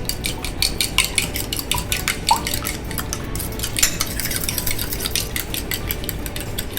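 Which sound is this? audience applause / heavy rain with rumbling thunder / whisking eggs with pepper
whisking eggs with pepper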